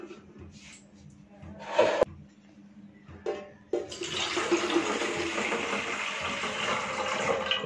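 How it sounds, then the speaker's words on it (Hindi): Water poured into a pot for idli cooking on a gas stove in an Indian kitchen, a splashing gush that builds to a steady loud stream after a few quieter trickles and handling knocks. "इसमें भी हम पानी डाल देते हैं।"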